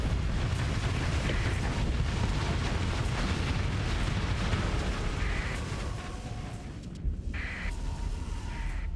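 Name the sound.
ship exploding in Starsector video game space battle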